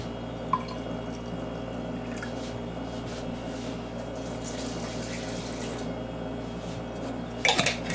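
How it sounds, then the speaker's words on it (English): Water is poured out of a container, heard as a soft steady trickle with faint drips against a constant low hum, fairly quiet, with a few brief splashy bursts near the end. "Pour out about half."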